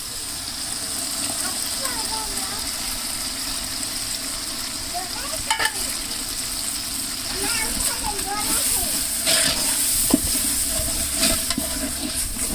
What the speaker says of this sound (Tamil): நல்லா இஞ்சி பூண்டு வாசம் போகிற அளவுக்கு நல்லா வதக்கலாம்